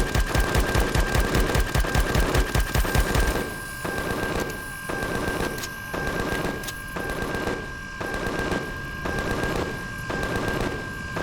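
Weapon fire in the Empyrion Galactic Survival video game, a rapid automatic burst that gives way to repeated shorter bursts with brief pauses, loud and close over a steady tonal hum.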